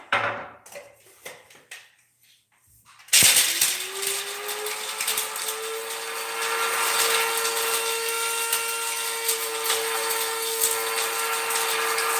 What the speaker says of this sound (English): I'll just grind all my peppers and then we can get started